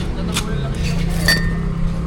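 Thick drinking glasses for sale at a bargain shop clink as they are handled, with two or three bright, separate chinks over a steady background hum and murmur.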